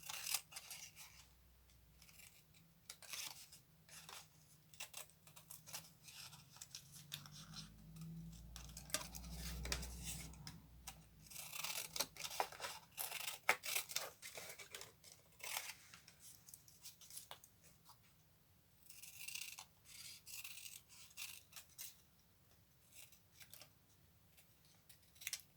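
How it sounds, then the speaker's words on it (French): Scissors snip paper as each word is cut out for a collage page: repeated close, quiet crisp snips and rustling paper in an irregular rhythm, with no voice over them. "Je découpe chaque mot."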